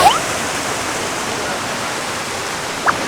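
Strongly flowing water at Pak Rang waterfall in Phatthalung roars as a loud, steady broadband rush, with a brief faint voice near the end.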